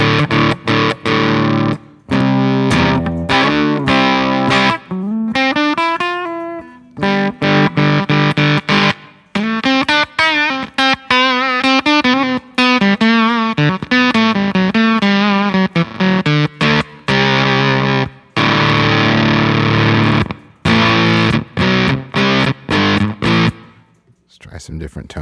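Electric guitar through a Web Slinger fuzz pedal, loud and heavily distorted, with sputtery, gated notes that cut off abruptly between short phrases and bends, played alone with the volume knob backed off.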